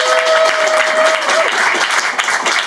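An audience claps loudly and steadily for an indie band at a musician spotlight show in Rochester, a dense burst of clapping with a faint tone fading beneath it early on.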